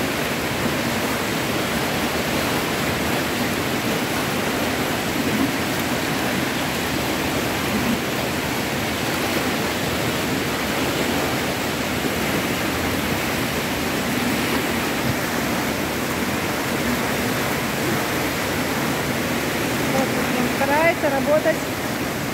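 A strong water current rushes through an indoor swimming pool used for swimming rehabilitation, a loud, steady broadband roar that persists without letup, with faint voices buried underneath.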